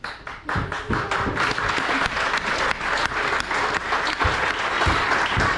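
Audience at a 60th-anniversary association celebration in a French village breaking into applause, a dense burst of clapping with sharp individual claps standing out, loud throughout.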